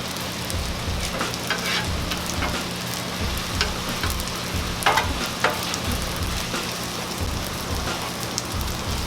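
Shrimp fry in sesame oil on a Blackstone griddle, a dense, even sizzle like steady rain, with occasional spatula scrapes and ticks over a low hum, close up and with no talking.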